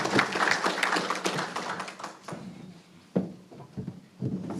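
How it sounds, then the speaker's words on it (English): Scattered audience clapping at a legislative panel luncheon as a senator comes forward, loose uneven claps that start moderately and die away into a few isolated taps and knocks. "Please give Senator Jim Boyd a round of applause as he comes forth."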